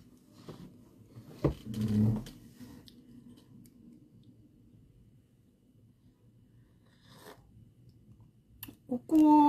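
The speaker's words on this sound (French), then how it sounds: "Vous venez chez les gens avec un gros chien comme ça." A large dog indoors makes a few soft clicks and brief growling, whimpering sounds, then a louder vocal burst near the end, with some quiet background noise between.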